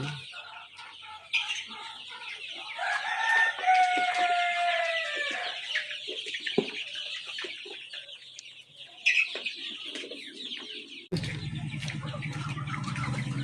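Chickens on a poultry farm cluck and call continuously, with several overlapping birds close by and a rooster-like crow mixed in; a brief low rumble joins near the end.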